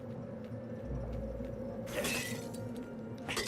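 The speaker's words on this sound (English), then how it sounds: "Smashing things was fun." Objects smash apart in the video game Stories: The Path of Destinies, a sharp shattering crash over a low steady rumble, followed by a second burst of breaking debris near the end.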